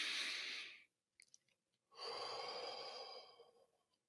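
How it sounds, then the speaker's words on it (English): A slow cleansing breath during a calming exercise: a long airy exhale, a pause with a few small mouth sounds, then a deep drawn breath that fades out, close and alone. "Now do a cleansing breath."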